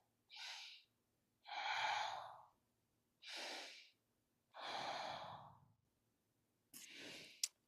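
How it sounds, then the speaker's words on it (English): Slow, deliberate breaths drawn in and pushed out through the nose in a quiet room, close and clearly audible, about five long airy strokes alternating in and out with short silent pauses between them. "Breathe in through the nose and out through the nose."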